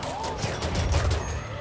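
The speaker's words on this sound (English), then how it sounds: "Using thump cannon on slate wall." Thump cannon fire against a slate wall during a RimWorld battle, a dense rumbling barrage of booming impacts mixed with rattling gunfire, continuous and loud with a faint voice underneath.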